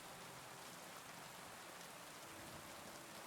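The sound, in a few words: rain in the video game Kingdom Come: Deliverance 2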